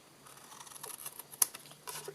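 Scissors snipping the corners of a paper card: a few quiet, close cuts with one sharper snip partway through.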